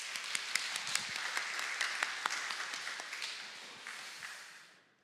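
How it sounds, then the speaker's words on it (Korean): Church congregation applauding short-term missionaries seated at the front during a Korean Sunday service, a dense run of clapping with sharp individual claps that fades out at the end. "우리 응원의 박수 한번 하도록 하겠습니다"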